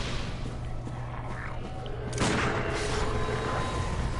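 A single sharp gunshot in Bloodborne cracks out loudly about two seconds in over a dense ambient game background, trailing into a brief rumbling decay.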